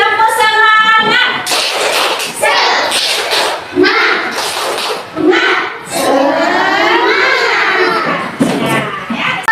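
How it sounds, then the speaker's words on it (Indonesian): Schoolchildren in an elementary classroom clap and chant together in a rhythmic group cheer, with loud bursts of voices and sharp claps trading off in a patterned beat, close and lively. "Kita mulai sekali lagi yuk. Tepuk semangat."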